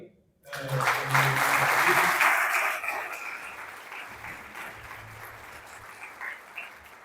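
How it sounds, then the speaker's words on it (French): Audience applause at a book launch for an author's book, a burst of clapping that swells quickly, holds for about two seconds, then fades into murmuring room noise with faint voices. "On va laisser maintenant, on va applaudir."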